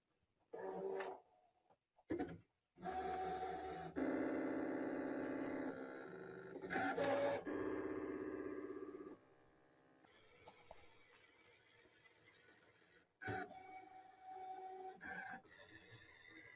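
An embroidery machine cuts appliqué pieces in bursts of motor whirring and stitching noise, separated by brief silences, with quieter mechanical clicks and hums toward the end.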